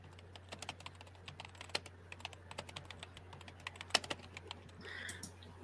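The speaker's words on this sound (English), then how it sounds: "And then option 4 is typing." Steady keyboard typing as a sprint timer sound effect, many quick light key clicks in an irregular stream, fairly soft and alone, with a slightly louder cluster near the end.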